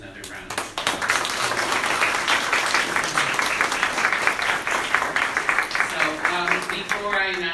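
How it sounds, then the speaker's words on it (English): Crowd at a poetry festival applauds the poets; a dense round of clapping that swells and continues, with a voice speaking over it toward the end. "Let's give all the poets another round of applause."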